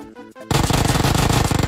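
Dense rapid-fire gunfire from the PUBG Mobile game, loud and close, a continuous stream of rounds after a brief lull with faint background sounds.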